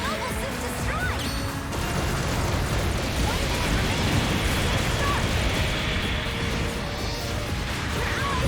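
Mobile suit destroyed in a dense, roaring explosion during a Gundam Battle Operation 2 match, with crashing and mechanical clatter rumbling loudly and continuously throughout.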